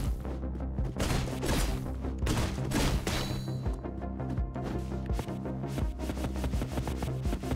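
Gunshots ring out in the video game Katana Zero as enemies fire at the player, dense loud bursts and thuds packed over a steady pulsing game soundtrack with no pauses.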